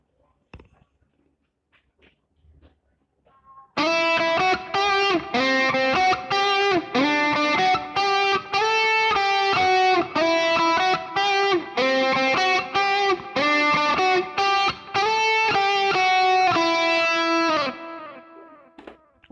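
An electric guitar played through a distortion effect rings out in a loud, continuous run of fast picked notes that starts after a few seconds of near silence and fades at the end.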